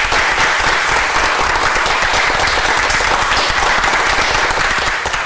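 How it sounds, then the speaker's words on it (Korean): Studio audience applauding to welcome a guest on a television health talk show, dense, loud, continuous clapping that fills the whole stretch without talk. "여러분 박수로 맞이해 주시겠습니까?"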